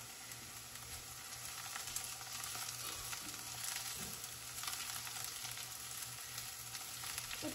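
Freshly cut taro leaves frying in a pan for a taro leaf and tomato curry, giving a steady, close sizzle with faint stirring scrapes throughout, no voices.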